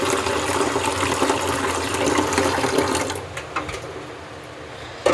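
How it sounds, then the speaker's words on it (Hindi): Water pours into a cooking pot in a home kitchen, a loud continuous splashing gush for about three seconds that then thins to a few drips and clinks, with no talk. "अभी जल्दी जल्दी जल्दी इसमें डालते हैं पानी।"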